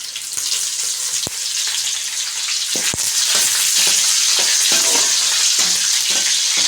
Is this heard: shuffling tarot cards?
no